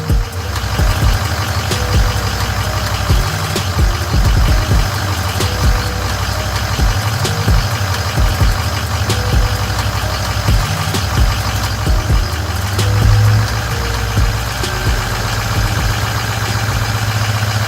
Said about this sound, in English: So you can hear right now it's switched into his automatic high idle.